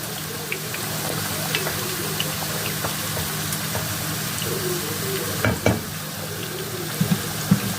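Tomatoes cooking down in a pan, a steady soft sizzle and bubbling simmer with occasional stirring clinks and scrapes near the end, close and moderately quiet.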